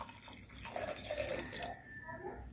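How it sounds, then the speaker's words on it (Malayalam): Water is poured into a pot of toor dal for cooking, a short close splashing, gurgling pour lasting a couple of seconds, heard alone. "നമുക്കിതിൽ കുറച്ചും കൂടിയും വെള്ളം ഒഴിച്ചു കൊടുക്കാം"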